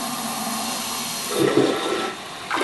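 Toto Neorest 500 toilet flushing, a steady rushing wash of water that swells partway through and then drops before a fresh surge near the end, close and alone with no talk.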